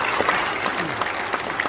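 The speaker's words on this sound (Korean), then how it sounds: "우리 뜨겁게 우리 박수해 주시기를 부탁드립니다." A church congregation claps warmly after a deacon ordination at a thanksgiving service, loud close-up applause from many hands with steady, dense rhythm throughout.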